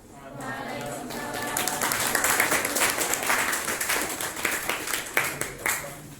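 Audience applause for the presenters at the close of a seminar session swells into sustained, dense clapping from a room full of people, with scattered louder claps near the end and some voices mixed in.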